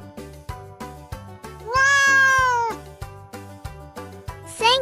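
A cat gives a long, loud drawn-out meow and then a shorter rising one, set over a repeating rhythmic musical backing.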